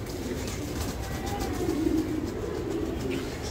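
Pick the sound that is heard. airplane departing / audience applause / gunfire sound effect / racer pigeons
racer pigeons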